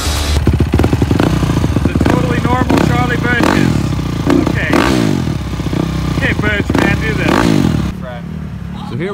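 A motorcycle engine roars loudly and up close throughout a wheelie performed in front of Michael Jackson's house, with revving surges and clattering thumps, while people talk over it.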